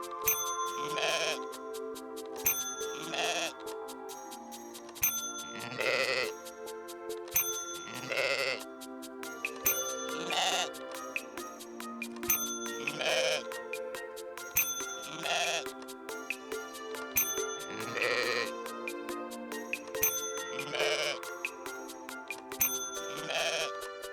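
Sheep bleat loudly in a steady run of repeated calls, roughly one every couple of seconds, close and clear over a constant tonal background.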